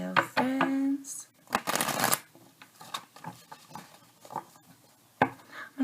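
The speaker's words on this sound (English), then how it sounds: "I'm going to go ahead and give a fan shuffle, even though we're going to split the deck." Tarot cards fan-shuffled by hand, a crisp papery riffle and flutter in a few close bursts with brief pauses, a tapping of the deck between them, alongside some speech.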